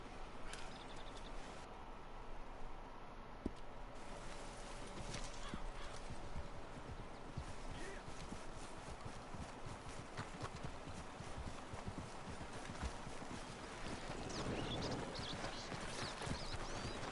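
Horse hooves clip-clopping steadily as a horse-drawn wagon rolls along in the video game Red Dead Redemption 2, with continuous rhythmic hoofbeats over a dense ambient bed and a brief neigh; no speech.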